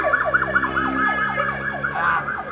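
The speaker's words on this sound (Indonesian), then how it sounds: "Wah, utara ada ambulan nih." An ambulance siren wails past a roadside, its rapid warbling tones sweeping up and down and swelling loud and close before shifting in pitch as it passes.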